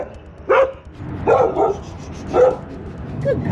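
Dogs in a house bark four times, loud and close, each bark spaced about a second apart against a quiet background.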